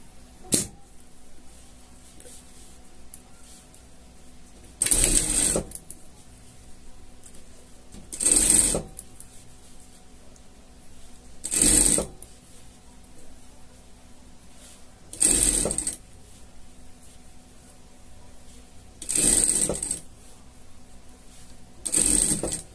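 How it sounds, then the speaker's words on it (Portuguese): Sewing machine stitching a seam on a small fabric pet slipper, short whirring bursts of stitching repeating every few seconds with quiet pauses between, close and alone. "Vamos passar uma costura de segurança aqui"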